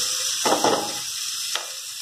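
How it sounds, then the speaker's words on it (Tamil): Vegetables sautéing in coconut ghee for Kerala avial, with two short bursts of sizzling and stirring over a quiet kitchen background. "நல்லா வதக்கிட்டே இருங்க தேங்காய் நெய்யில்."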